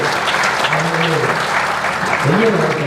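An audience at a public speech applauds, with steady, dense clapping throughout while a voice speaks over it.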